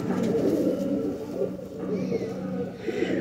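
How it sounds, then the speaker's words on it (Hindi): Genuine Sheikh-breed pigeons coo continuously in soft, throaty rolling calls that carry through the whole stretch, close by, with faint voices and light background rustle underneath. "लेकिन ये हैं जेन्युइन शेखों वाले कबूतर।"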